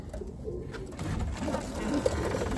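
Soft cooing from Birmingham Roller pigeons blends into a steady background murmur, low and continuous, with a faint voice now and then.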